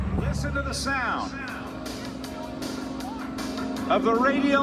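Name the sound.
airshow plane's Pratt & Whitney radial engines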